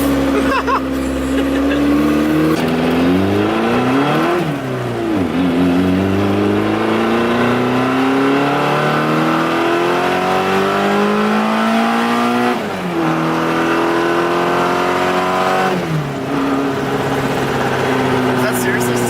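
A station wagon's engine, running on E85, revs up through its gears in rising sweeps, loud and close from inside the vehicle, with voices talking over it.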